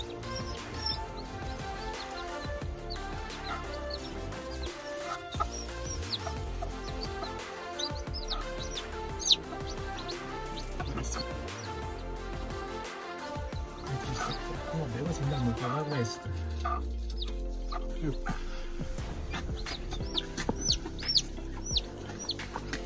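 Newly hatched chicks peep and hens cluck throughout, mixed into a dense, busy background with voices talking over the birds.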